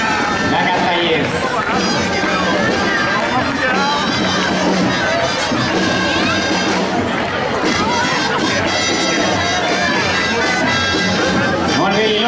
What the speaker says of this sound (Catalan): un aplaudiment pels amics i amigues